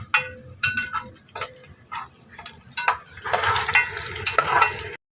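Onions fry and brown in a pot, a soft intermittent sizzle with clinks of a stirring spoon, growing into a denser, brighter hiss toward the end.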